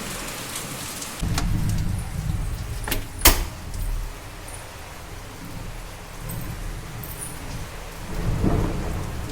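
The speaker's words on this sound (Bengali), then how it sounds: "দেখো আকাশ যাচ্ছে ডাকছে কীরকমভাবে" Thunder rumbles low and long through a steady rainstorm, with rain pattering on surfaces and a sharp crack of nearby thunder early on, all without voices.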